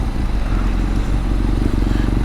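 BMW R nineT motorcycle riding along a New Jersey road, its engine thrumming steadily and close up with continuous low rumble and wind noise throughout.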